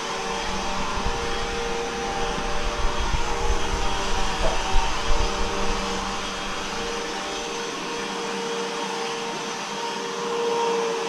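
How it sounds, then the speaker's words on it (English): A loud vacuum cleaner roars steadily nearby in a hotel, a continuous broadband whine with a low rumble that eases slightly toward the end. "What a loud vacuum."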